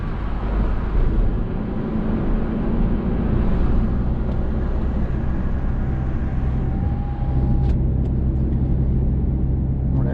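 A car driving through a roundabout during a driving lesson, its engine a steady close rumble inside the cabin as it accelerates, with a brief faint tone near the end.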